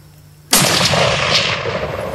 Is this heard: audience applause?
no